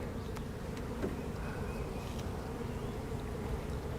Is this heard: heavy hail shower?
no